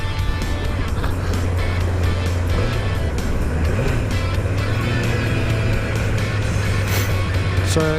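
Steady low engine drone with a wavering pitch and constant wind and road rumble, close up, as if riding along; a brief word is spoken.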